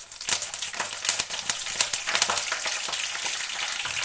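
Mustard seeds, curry leaves and dried red chillies frying in hot oil, a loud close crackling sizzle with dense popping bursts that continues without pause.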